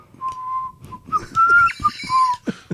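Someone whistles a short melodic tune, bright sustained notes rising and falling over a couple of seconds, with faint background noise.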